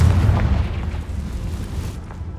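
A Confringo spell blast goes off in Hogwarts Legacy, a heavy low boom with rumbling energy that rolls through the full stretch without any pause, loud and close, no voices present.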